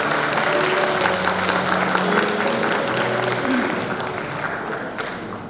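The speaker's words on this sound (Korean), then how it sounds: "박수 한번 부탁드리도록" Audience at a pharmacists' association event applauding, a dense sustained burst of clapping from a large indoor crowd that slowly fades, with a voice briefly heard beneath it.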